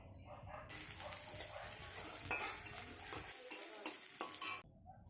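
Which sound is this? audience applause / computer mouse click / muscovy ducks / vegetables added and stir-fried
vegetables added and stir-fried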